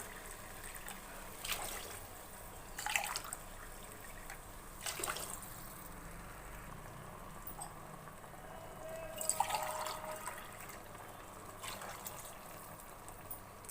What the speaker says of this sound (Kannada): ಇವಾಗ ನಾಲ್ಕು ಲೋಟ ನೀರು ಹಾಕೋತಿದ್ದೀನಿ